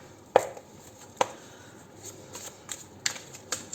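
Sharp card slaps and riffles from a tarot deck being handled close by, a few distinct snaps spaced irregularly over quiet background, no talking.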